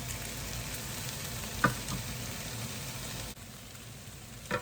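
Eggs sizzle steadily in a hot pan with bacon, a continuous crackling fry with a brief clink partway through and a slight drop in level near the end.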